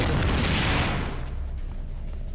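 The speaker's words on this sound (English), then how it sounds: "Follow the explosions, I guess" Explosion in the video game System Shock 2: a loud, broad rumbling blast that fills the moment and slowly decays into a dull roar.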